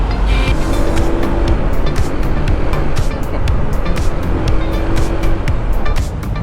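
Dense, continuous roar of heavy road traffic heard from a Honda ADV 160 motorcycle on a night ride, with steady engine and tire noise, passing vehicles and occasional sharp clicks throughout.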